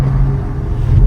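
A low, steady synthetic hum from a 2024 Porsche Macan electric SUV's motor in sport mode, loud and close, droning continuously without variation.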